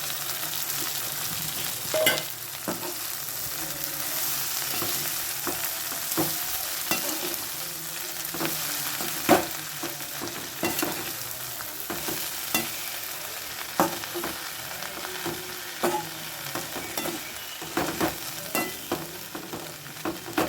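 Drumstick flowers and leaves sautéing in a pan give a steady, close sizzle for about twenty seconds, with repeated scrape-and-stir strokes of a spoon against the pan and no talking.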